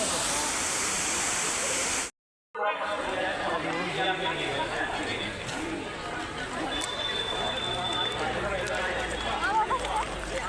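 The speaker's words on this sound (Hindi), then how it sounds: "ओने का झरना" Steady rushing water fills the scene with a broad hiss, briefly cut off once, while a voice speaks faintly over the roar.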